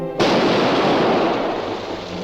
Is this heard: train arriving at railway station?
no